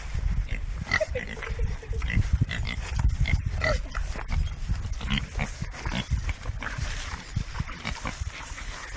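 A group of farm pigs grunting and jostling, dense overlapping snorts and shuffling close by, loud and continuous with rough busy texture throughout.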